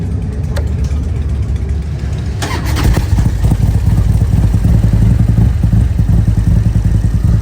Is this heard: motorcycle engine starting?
yes